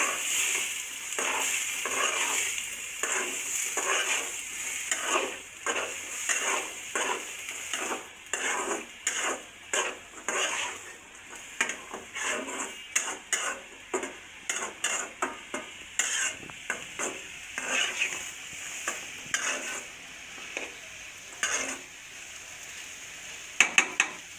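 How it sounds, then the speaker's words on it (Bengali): Boiled chickpeas and potatoes are stir-fried in a pan, with a soft sizzle beneath repeated rhythmic scraping and clinking of a spatula against metal, growing sparser toward the end. "আলু আর ছোলা আবার একসাথে দিয়ে দিলাম"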